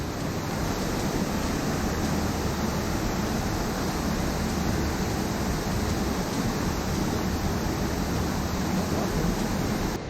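South Falls at Silver Falls State Park in Oregon, a steady, loud, broadband roar of falling water that stays constant throughout with no talk.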